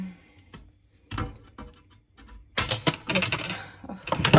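A sharp snap from a pair of wire cutters biting through the back panel of an IKEA wardrobe, followed by loud rattling and scraping of the cut material being handled close by.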